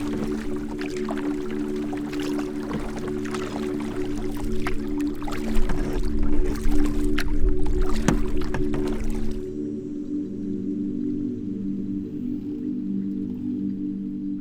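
A canoe paddled on a remote Michigan wilderness lake, with soft sloshing and dripping strokes in the water over a steady low hum, which swell briefly in the middle and then die away, leaving only the faint hum.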